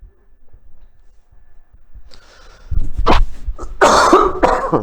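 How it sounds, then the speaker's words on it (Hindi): A few harsh coughs and a throat clearing ring out close by after a quiet start, loud and bursting, with no talking. "खांसी एक साथ बढ़ने लग गई है"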